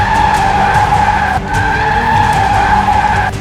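A car speeds away with tires skidding loudly on the road, a sustained close squeal with a brief break midway, alone without speech.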